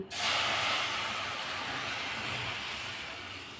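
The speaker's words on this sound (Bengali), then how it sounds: "এই অবস্থায় আমি সুজিটার মধ্যে জল অ্যাড করব।" Water poured into roasted semolina in a hot pan bursts into a sudden loud hiss of steam that holds strong and slowly eases off, close by and with no talking.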